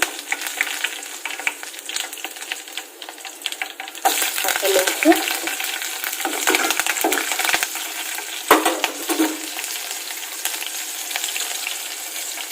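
Curry leaves land in hot oil for cabbage masala rice, and after a quieter stretch of light crackle a sharp burst of sizzling and spattering breaks out and keeps going loud and close, with scrapes of stirring.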